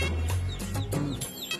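A chicken clucks in short, close bursts during a comedy film scene, the calls loud over a steady low background hum.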